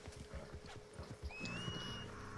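A horse whinnies in a video game, a rising neigh following a run of clip-clopping hooves, fairly close and loud amid game ambience.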